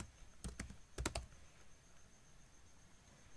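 Password keys tapped on a computer keyboard in two quick bursts of clicks, quiet and close, followed by a faint hum with no voices.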